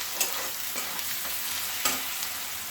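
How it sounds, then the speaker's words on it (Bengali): Onions fry in a wok with a steady, close hiss of hot oil, punctuated by a few sharp stirring scrapes at irregular moments. "পেঁয়াজটা ভালো করে ভেজে নেব"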